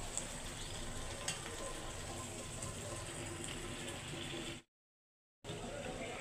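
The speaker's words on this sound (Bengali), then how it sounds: "মাংসটা অনেকক্ষণ ধরে কষাইছি" Steady, dense sizzling of meat frying in a pan, continuous and fairly close, with one brief cut to silence near the end.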